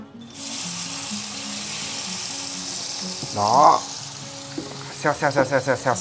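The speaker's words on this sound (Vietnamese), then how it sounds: "đầu tiên ấy thì các bạn sẽ chiên với lửa nhỏ thôi" Meat frying over low heat in hot oil in a pan for a lobster tom yum noodle dish, a steady sizzle with a brief louder splash and a spoken word near the end.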